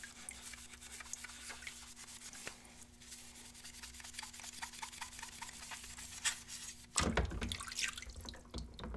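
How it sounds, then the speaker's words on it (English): Scrubbing plastic parts of a Pikachu Nintendo 64 console clean, a steady rubbing and brushing with light watery drips, growing louder and more vigorous toward the end. "Just get the rest of these parts scrubbed off"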